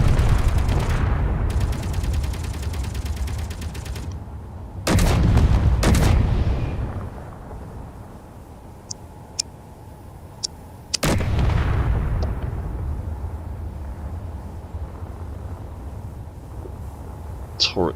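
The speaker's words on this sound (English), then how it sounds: "Turrets can aim far down enough at that angle, or have they just run out of ammo?" Turret gunfire in the Space Engineers video game, heard as loud bursts of firing and booms that come in clusters, with quieter stretches of game noise and scattered sharp shots between them.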